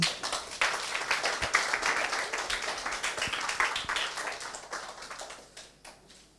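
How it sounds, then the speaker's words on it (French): An audience at a school drawing contest award ceremony applauds a primary-school student, many hands clapping briskly and fairly close, with a few sharper claps standing out before the applause tapers off. "Vous pouvez l'applaudir."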